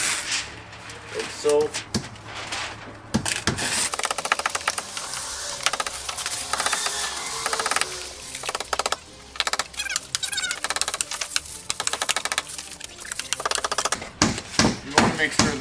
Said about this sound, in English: now we're simply going to locate our corners and cut 45